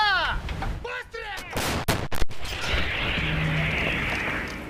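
Ukrainian 152mm howitzers fire on the eastern Ukraine frontline: a cluster of loud, sharp blasts arrives in quick succession after brief voices, followed by a long rumbling roar and hiss fading into the open air.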